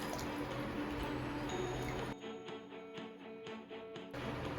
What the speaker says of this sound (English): I'm going to add in the milk.